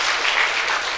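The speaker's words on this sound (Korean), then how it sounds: "박수 한번 합시다." Brief, dense burst of applause from a church congregation during a Sunday morning service, steady and filling the room.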